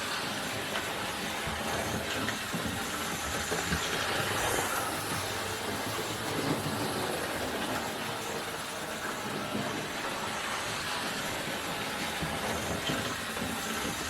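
A Hornby King Class model locomotive, King Edward VIII, runs around its track with a continuous, even whirring rumble and faint rail noise that holds steady throughout.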